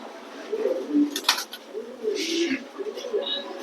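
Pigeons, including a female, coo in soft repeated low calls at close range at a pigeon sale, with a person talking over them and occasional wing or movement noises.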